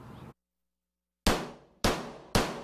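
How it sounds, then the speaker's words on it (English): Three sharp gunshots in a firearms training drill for teachers at a mock gunman during a simulated school shooting, each a loud crack with a quick decaying tail, the last two close together after a silence. "an elementary school principal firing at a mock gunman during a simulated school shooting"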